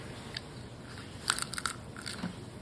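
Fried blue crab being bitten and chewed, with a few sharp close crunches and crackles over a quiet background.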